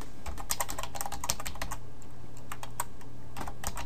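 Fingers tapping a computer keyboard as a password is entered during a Joomla site setup; quick, uneven keystroke clicks close up, steady over a faint hum.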